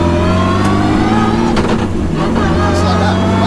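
A sequential-gearbox Mitsubishi Evo fitted with an R35 GTR engine revs and accelerates hard, its loud, steady engine drone filling the cabin as the pitch rises and falls.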